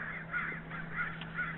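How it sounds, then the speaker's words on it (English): A crow caws three times in an even rhythm inside a motel room, with a low steady hum underneath. "I left the window open and a bird came in my room."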